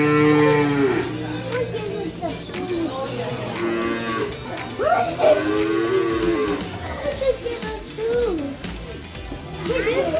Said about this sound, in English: I found a poor cow.